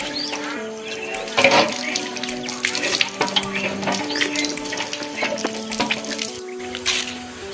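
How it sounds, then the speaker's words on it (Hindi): Water from a hand pump at a temple in the jungle splashes and drips while someone washes their face, a steady wet sound with splashy bursts over a background of steady tones. "गाइस चलिए मुंह धो लेते चापाकल में।"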